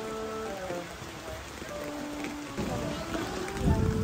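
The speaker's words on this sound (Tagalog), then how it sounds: "bago kami tuluyang nabuhusan ng ulan" Heavy rain pouring down outdoors, a dense continuous hiss of drops on surfaces, steady and loud throughout.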